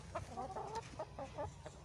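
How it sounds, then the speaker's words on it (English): Several chickens clucking close by, short overlapping calls in an irregular rhythm over a low background rumble. "the chickens are waiting for me"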